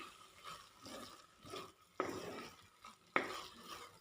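Fried prawns are stirred through masala in a pan, several soft scraping passes rising and falling, with two sharp metallic knocks of the spoon against the pan; no one speaks.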